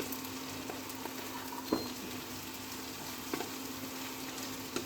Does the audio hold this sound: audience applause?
no